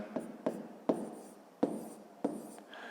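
A pen or chalk writes numbers in a maths exercise, five crisp scratchy strokes tapping down at irregular intervals, close and quiet, with no talk.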